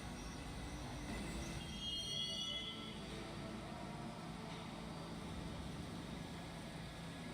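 Simulated subway-style H local train running in Trainz Railroad Simulator 2019, a steady rolling rumble with faint wheel squeal and high metallic whines, continuous and fairly quiet throughout.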